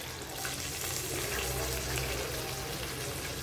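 Ginger garlic paste frying in hot oil after biryani masala spices, for an egg biryani, giving a steady, close crackling sizzle that holds at an even level throughout with no voices.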